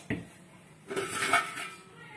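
Metal pots and cooking vessels clank and rattle as they are handled, a sharp knock near the start followed by a longer run of jangling metallic contact, close and fairly loud.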